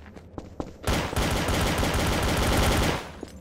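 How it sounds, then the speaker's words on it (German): Automatic gunfire from the video game Trouble in Terrorist Town rattles in one loud, sustained burst of roughly two seconds after a few scattered shots. "Schieß mal nicht so viel hier."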